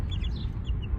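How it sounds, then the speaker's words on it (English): Soft chirps and clucks from Plymouth Blue and Amberlink chickens, faint and scattered over a low background rumble, brief and close. "Blinky and Blue, how was your day, my little chickies?"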